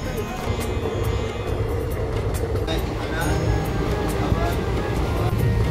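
A passenger train pulls into New Farakka Junction, a steady loud rumble of wheels and carriage noise filling the whole stretch, with voices talking over it.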